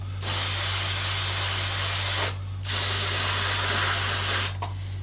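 Aerosol can spraying clear coat sealant onto a Revell 1/48 scale Tornado model kit, two loud, close hissing bursts of about two seconds each separated by a short pause, over a low steady hum.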